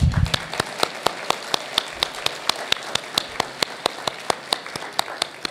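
Sparse, evenly spaced claps ring out one after another at an awards breakfast, sounding like a small group or a single person clapping steadily in a quiet room, moderately loud and close.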